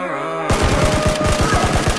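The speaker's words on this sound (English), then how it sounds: "No, no, I'm using shotgun." Shotgun blasts in PlayerUnknown's Battlegrounds ring out after a brief quiet start, followed by a fast, dense volley of loud close-range gunfire that lasts to the end.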